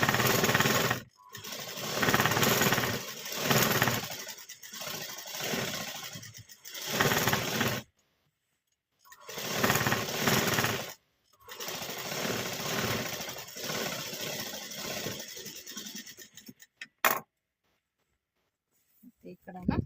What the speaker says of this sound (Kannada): ಹಾಗೆ ಒಂದು ಸ್ಟಿಚ್ ಮಾಡ್ಕೊತೀನಿ. 2 ಸ್ಟಿಚ್ ಹಾಕ್ಕೊಡ್ತೀನಿ.